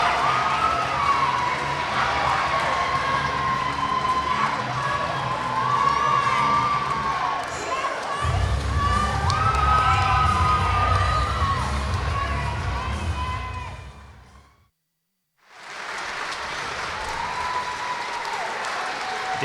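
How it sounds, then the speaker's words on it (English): A wrestling crowd gives a standing ovation with sustained applause, cheering and shouting. The noise stays loud and dense, breaks off briefly near the end, then resumes. "He's getting a nice standing O from the crowd"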